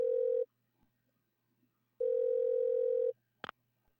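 Dial tone from a toy phone in the Parasite Eve 2 video game, two steady buzzing tones of about half a second and a full second with a pause between, then a brief click.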